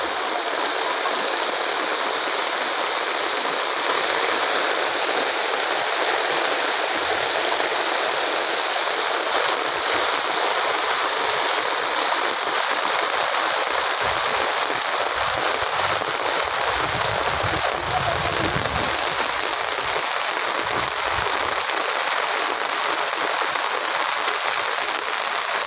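Heavy rain pours steadily onto a soybean field at harvest time, a dense, constant hiss of downpour close by with no break for the whole stretch.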